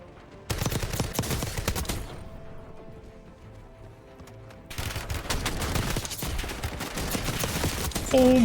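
Close, loud shotgun blasts from the video game Call of Duty Warzone pound out in rapid bursts, with a brief quieter gap in the middle before the heavy gunfire resumes.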